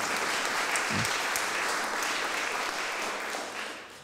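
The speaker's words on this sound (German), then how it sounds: "klatscht schon los, bevor es mal losgeht" Audience members clap ahead of a song-and-guitar performance at a talk on Jewish identity: a steady, full wash of applause from a crowd, even in loudness and easing slightly at the close.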